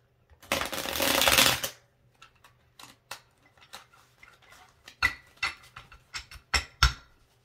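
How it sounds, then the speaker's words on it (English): A deck of playing cards is shuffled close by, with one long riffle followed by a series of quick, light card flicks and taps. "I'm gonna shuffle."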